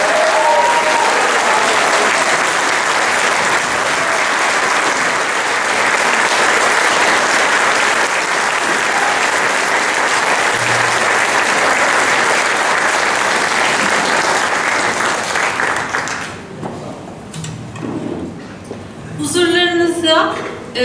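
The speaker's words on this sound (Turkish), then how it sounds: "Ve saz ekibi için büyük alkış rica ediyorum" A concert audience at a Turkish music choir performance in London applauds the instrumental ensemble, dense sustained clapping filling the hall for about sixteen seconds before fading, with voices speaking afterward.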